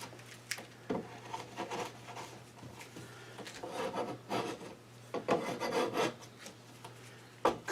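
Hand trimming of wood while building hexagons gives close, quiet rasping and scraping strokes in irregular bursts, with a low steady hum underneath.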